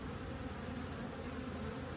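Honey bees in a top bar hive with brood and a queen cell make a dense, continuous buzzing drone close by, steady throughout with no voices.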